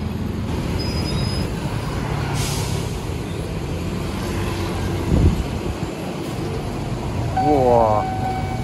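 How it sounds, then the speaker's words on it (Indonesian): A TransJakarta bus turns across a railway level crossing amid steady traffic rumble, with a short air-brake hiss midway and a rising mechanical whine near the end, all loud and close. "Bus Trans Jakarta sedang menikung. Bermanuver mantap."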